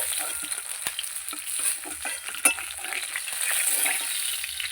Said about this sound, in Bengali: এই মাছগুলো আমি ভেজে নিয়েছি তুলে নিচ্ছি